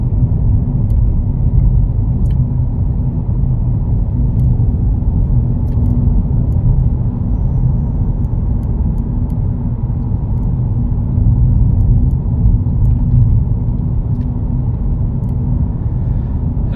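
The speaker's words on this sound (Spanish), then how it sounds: "Ahora el tráfico, casi mucha gente sale a mediodía a trabajar ahora." Midday road traffic rolls past as a loud, continuous low rumble of car engines and tyres that swells and eases as vehicles pass close by.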